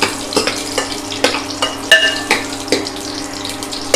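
Slit green chillies dropped into hot oil in a pan for mutton paya, crackling and sputtering close by, with sharp pops and stirring scrapes over a steady fry and a brief metallic ring.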